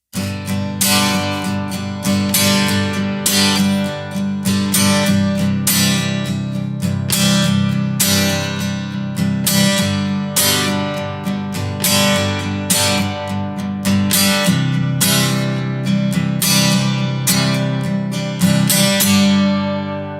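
Rhythmic guitar strumming with regular accented strokes, a full chordal pattern played continuously without pause.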